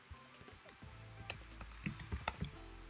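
Quiet computer keyboard keystrokes come in an irregular burst of about a dozen clicks, close and faint, with no talking.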